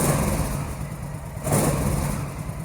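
A custom bobber motorcycle engine in a garage idles and then gets a brief throttle blip, the revving swelling midway before settling back to a steady near idle, with no voices.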